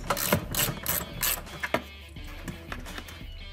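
A wrench ratchets out 12mm bolts from under the fender of a 2016–2018 Yamaha Grizzly 700 ATV, giving quick bursts of close metallic clicking that taper into quieter, sparse ticks.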